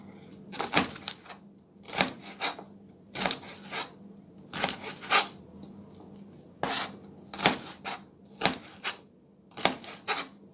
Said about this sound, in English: So I like to cut off any little thing I see on the stems, and a little discoloration.